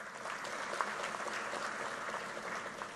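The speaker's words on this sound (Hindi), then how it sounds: "कलिता जी के लिए ताली बजाओ जरा" Audience at a political rally in West Bengal claps steadily in a broad, moderately distant wash of applause that lasts throughout.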